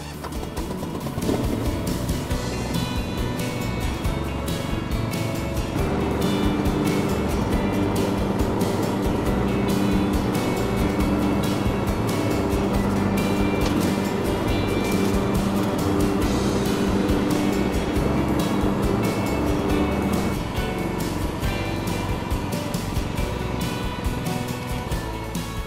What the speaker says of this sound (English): I'm just going to show you it mowing in the side discharge mode